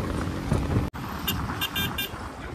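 A car is driven through heavy weekend traffic in Lonavala, with a steady road and engine rumble, a brief cut, then short horn toots from nearby vehicles.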